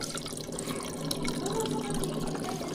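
Water poured into a drinking glass at a meal table, a steady close splashing trickle that runs throughout over a busy room background.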